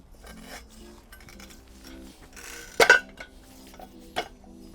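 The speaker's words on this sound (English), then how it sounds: "So what we're using today to cut our blocks, we're using a guillotine block splitter." A guillotine block splitter cutting a concrete paving block for a Tobermore Sienna driveway. Soft scraping and clinks lead up to one sharp, loud crack as the block splits, followed later by a smaller knock.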